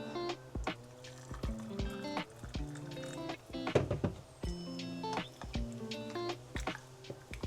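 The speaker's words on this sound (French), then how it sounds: "Encore un peu d'eau." Water trickles in small splashes into a thick mixture, with intermittent drips and gurgling pours close by and no talking.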